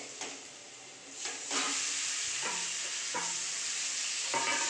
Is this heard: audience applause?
no